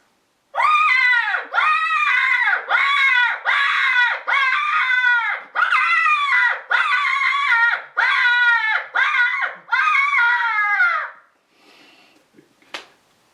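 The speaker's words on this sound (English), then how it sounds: "I'll give it a call with the rabbit in distress" Rabbit-in-distress game caller blown for coyote hunting in Maine: about ten loud, wailing screams in steady succession, each a rising-then-falling cry, ending with a faint rustle and a sharp click.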